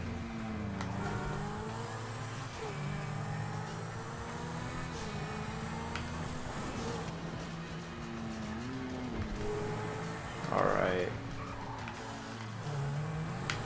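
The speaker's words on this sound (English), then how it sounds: "This car is actually really fast." A fast car in GTA Online accelerates steadily, engine tone climbing and dropping through gear shifts, with a brief tire screech near the end, no voices.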